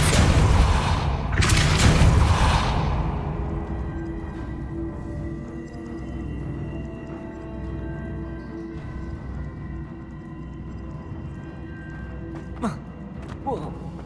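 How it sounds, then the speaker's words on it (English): In the video game Hogwarts Legacy, a Depulso spell goes off as a heavy booming blast with a rumbling tail that fades into quiet ambience, then a few faint thumps follow. "Depulso!"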